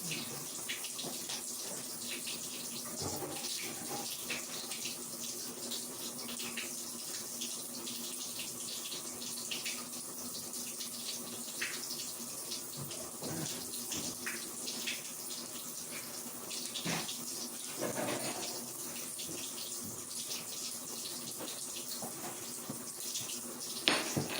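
Water runs steadily from a faucet as a household plumbing system fitted with SharkBite Max copper fittings and flex hose purges air, producing a continuous, fairly quiet rushing flow with faint sputters and occasional clicks.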